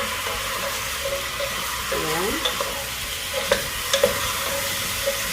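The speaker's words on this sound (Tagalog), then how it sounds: "igigisa natin yung curry powder. Balik natin yung chicken para maluto siyang gusto" Chicken and curry powder sautéing in a pan for a light chicken curry, a steady close sizzle with occasional scraping stirs and a few soft clinks.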